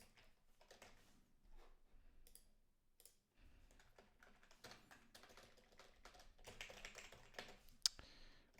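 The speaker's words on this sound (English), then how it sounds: "Bit of typing here." A computer keyboard is typed on in quiet, irregular bursts of soft clicking keystrokes close to the microphone, with short pauses between runs and no speech.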